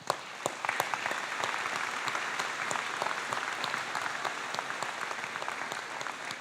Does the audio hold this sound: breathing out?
no